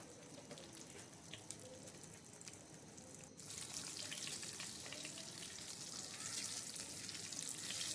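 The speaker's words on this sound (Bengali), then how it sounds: "দুটো শুকনো লঙ্কা দিলাম আর এক চামচ কালো জিরে ফোড়ন দিলাম" Nigella seeds and two dried chillies temper in hot oil, producing a soft, steady crackle and hiss that suddenly grows brighter and louder partway through and then holds.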